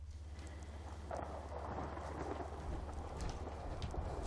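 Steady rain falls in the video game Fallout 4, Far Harbor setting, as a continuous soft wash with faint distant rumbles beneath, with no talking over it.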